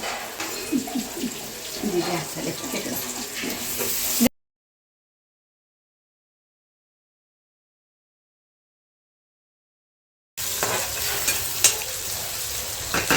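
Chopped onion frying in a pan, a soft continuous sizzle with occasional stirring scrapes, broken by a long stretch of complete silence before the sizzle resumes.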